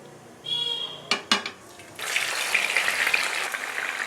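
Marinated fish laid into hot mustard oil for a shallow fry, opening with a few pan clatters and knocks before a steady close sizzle takes over for the last two seconds.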